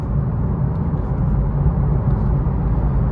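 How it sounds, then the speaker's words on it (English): A BMW G80 M3 Competition, the 2021 model, accelerating from about 50 to 100 inside a road tunnel gives a steady, loud, low engine and road roar that holds evenly throughout, with no talk over it. "I will try to make it about from 50 to 100 just to show the sound of this car."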